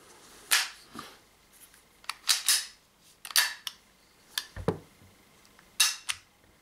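Trigger of an Umarex Walther PPQ T4E pistol clicks sharply several times in an irregular sequence, crisp close-up snaps separated by short quiet gaps, with no talking.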